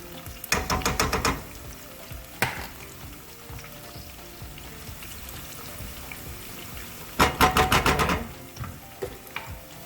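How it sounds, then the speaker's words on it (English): Paste sizzles and spatters in a pan, with two loud bursts of crackling stirring and quieter frying between them. "I'm going to put that in here so it can start frying as well."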